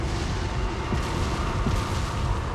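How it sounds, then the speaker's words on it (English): Cannon fire in the video game Resident Evil 4, a couple of dull booming thuds set deep within a constant loud rumbling background roar. "To be fair though, those cannons have terrible aim."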